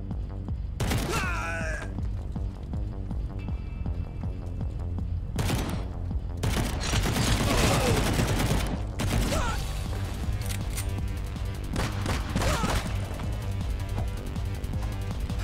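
Sporadic loud bursts of gunfire in God's Trigger punctuate a steady background game soundtrack, arriving in several separate clusters with gaps between them.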